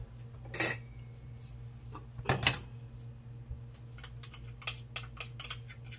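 Half a cup of cornstarch is mixed in a bowl, heard as a few clinking utensil strikes against the bowl followed by soft, light tapping and scraping, fairly quiet and close.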